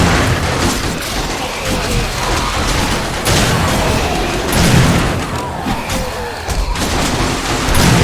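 Rapid bursts of gunfire aimed at a cop zombie in the survival game 7 Days to Die, loud overlapping shots and booms in irregular clusters throughout.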